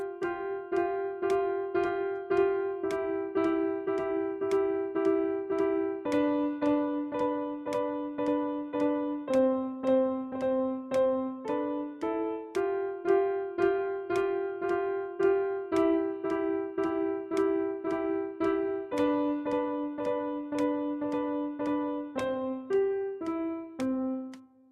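Piano outline pattern with each note struck six times in a steady repeated rhythm, moving through a sequence of chords and bass notes, clear and close with no talking.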